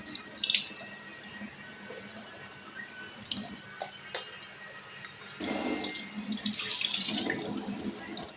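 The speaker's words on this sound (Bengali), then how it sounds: "এটাকে আমি একটু জল দিয়ে ভালো করে ধুয়ে তারপরে মিক্সিতে" Tap water runs into a kitchen sink as cumin, dried chillies and tomato are rinsed, a gentle splashing stream with intermittent louder gushes and clinks, growing stronger toward the end.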